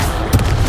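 A Confringo blasting spell goes off in Hogwarts Legacy, a short loud boom with a crackling burst in the middle of steady game noise.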